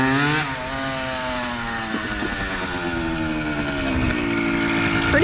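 A 1974 Yamaha MX100 motorcycle wheelies, its two-stroke engine screaming with a high, buzzing whine, dipping as a gear shifts and then climbing steadily in pitch, loud and nearby.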